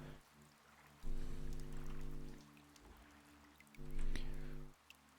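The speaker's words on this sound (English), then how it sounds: "I'm glad we at least have the rain sound effect." Steady rain ambience in the GodSIM video game over a marshland scene, with a hissing wash of drops and low tonal game sounds swelling in and out.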